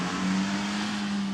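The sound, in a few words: car driven on a lap, played tape of Hugh Grant's lap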